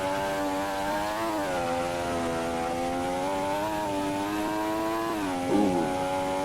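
Formula 1 car engine in a racing video game at the Qatar Grand Prix, a loud, steady high-pitched whine heard onboard, with a brief downshift dip near the end and no talk.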